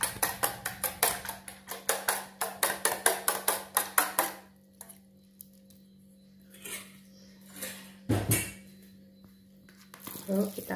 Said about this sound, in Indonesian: Lalu kita kocok lepas telur ya